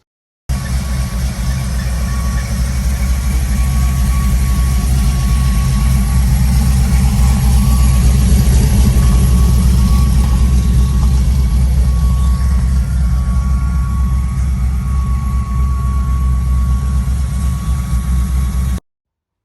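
An LS-swapped Squarebody Chevrolet Suburban with a welded-up quiet exhaust idles steadily with a low, even rumble that continues unchanged for the whole stretch.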